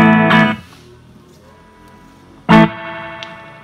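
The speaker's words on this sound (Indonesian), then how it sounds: "Ini suara cleannya, ini ada reverbnya." Clean electric guitar through a Leney 12-inch amp with reverb on, two separate strummed chords ringing out alone with long reverb tails between them.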